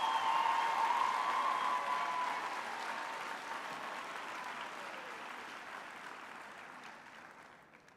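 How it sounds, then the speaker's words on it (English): An audience at a university graduation ceremony applauding, a dense steady wash of clapping that gradually fades and thins out over several seconds; no talking. "Let's give them a big round of applause."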